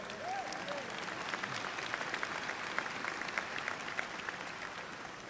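A crowd at a 2006 mayoral inauguration applauds, a steady, somewhat distant spread of clapping with a brief voice or whistle-like tone near the start.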